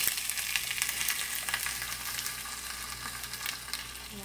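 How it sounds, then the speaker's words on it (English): Gardein beefless sliders frying in a pan, giving a steady crackling sizzle at close range, fairly quiet and continuous with small pops throughout, no voices. "Now they've got a nice sizzle."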